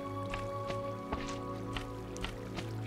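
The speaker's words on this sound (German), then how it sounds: "Hier fließt das Wasser in Mengen." Water flows in the Minecraft video game, a faint, steady liquid wash with soft dripping splashes every half second or so, over a quiet sustained tonal drone.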